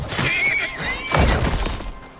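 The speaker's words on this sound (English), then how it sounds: "Okay, there's a horse up there." A horse neighs in the survival video game Icarus, a loud, drawn-out whinny with a second shaky burst, heard alone without talk.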